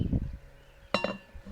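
Metal lid lifted off a pot of old-fashioned beef stew, giving a brief clink with a quick second tap, close and clear in an otherwise quiet moment.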